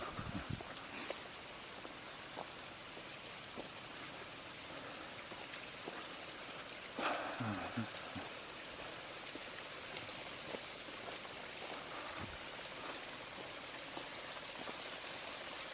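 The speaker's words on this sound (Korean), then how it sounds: "이렇게 폭포 소리가 또 나지막하게 들리면서" A steady, soft wash of a distant waterfall hisses in the background, constant, with occasional faint taps and rustles.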